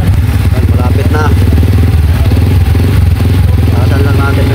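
A Yamaha Sniper 150 motorcycle engine idles steadily while warming up, with a close, continuous rhythmic putter and some mechanical clatter, and a voice talks over it.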